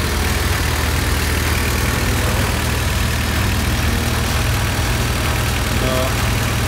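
A 1992-1995 Honda Civic engine idles after a head gasket replacement, a steady smooth low hum that runs evenly and loudly throughout without misfires or voices.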